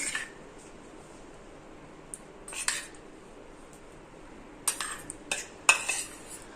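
A spoon mixes sour yogurt and oil, with baking soda, for tandoori roti dough, making sparse quiet clinks and scrapes against the bowl, a few sharper taps near the end, otherwise near silence.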